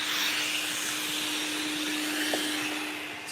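A Surf Prep electric sander working a 4x8 backer board with dust extraction attached, giving a steady close whirring hiss with a constant hum that runs without a break and eases off slightly at the end.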